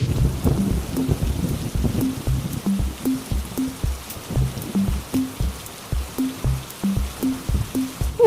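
Steady rain falls throughout, with a rhythmic repeating pattern of soft thuds and low tones running underneath it.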